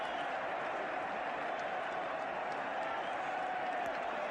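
Broad roar of a large football crowd at a 1970s QPR match, a steady wash of mixed jeers and cheers heard from a distance, continuous and unbroken throughout.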